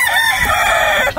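A Harabas rooster crowing close and loud, one long, strained, harmonic call held steady for about a second before breaking off abruptly, with no talk over it.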